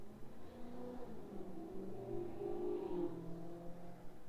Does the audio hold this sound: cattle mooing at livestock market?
no